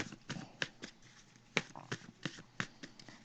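Tarot cards being shuffled by hand in short riffling bursts and soft slaps, close and fairly quiet, with no speech.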